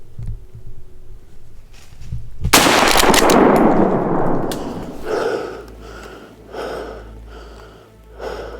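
A single loud rifle shot at a deer on a Wisconsin hunt booms and echoes out across the woods, followed by heavy breathing and quiet rustling.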